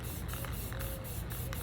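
Orange Rust-Oleum spray paint hisses from a can onto a tumbler in short rhythmic bursts, a close, fairly soft repeated spray with no talking.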